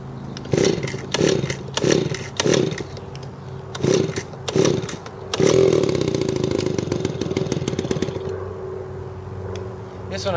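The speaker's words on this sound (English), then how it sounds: "let's start the barrage of smoke and 2-stroke engine noises" A small 2-stroke engine is yanked several times with rhythmic pull-cord bursts, then catches and runs with a raspy, buzzing idle that settles down, close and fairly loud.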